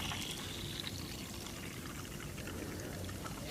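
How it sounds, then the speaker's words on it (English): Plaster mix poured from a container into a rubber glove, a soft continuous pouring slosh that holds steady for a few seconds, quiet and close. "There goes the plaster mix into the glove."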